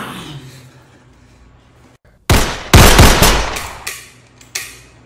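Video-game gunfire breaks out in loud, close bursts after a quiet stretch, with a dense volley followed by a few separate sharp shots.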